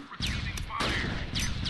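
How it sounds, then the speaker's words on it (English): In the Close Combat war game, a rifle team returns fire: sharp, loud volleys crack out in several bursts over a rumbling battle backdrop. "Oh, they're returning fire finally."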